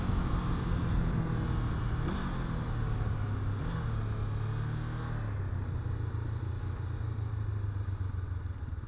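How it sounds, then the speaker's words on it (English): A 2016 Honda CB500F motorcycle engine braking on the road, its low rumbling drone steady and close with a slight dip in pitch as revs fall, mixed with wind and road noise and no talk. "And then just engine braking."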